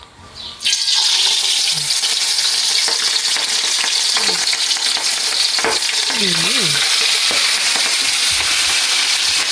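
Small fish frying in hot oil with garlic, with a loud, dense, continuous sizzle up close, a few scrapes and clinks of a utensil, and some faint squeaky sounds partway through.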